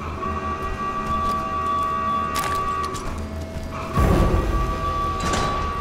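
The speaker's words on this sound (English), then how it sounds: "Somebody kill that goddamn siren!" A continuous wailing alarm siren sounds in the Resident Evil: Revelations 2 game, holding a steady tone with metallic clanks and a louder thud-like burst partway through.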